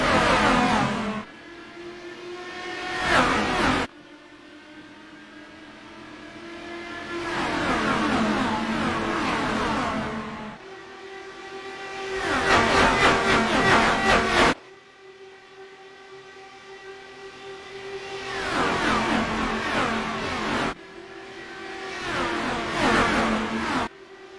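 A field of IndyCar race cars in iRacing at Homestead roars through a rolling start, engines surging loud in repeated waves as cars pass close, then cutting off sharply between passes.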